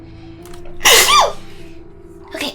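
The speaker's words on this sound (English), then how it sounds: "Uh-oh, I feel like I'm gonna sneeze." A single sneeze bursts out close and fairly loud after a quiet moment, followed by a softer exhaled breath, over a faint background hum during a game session.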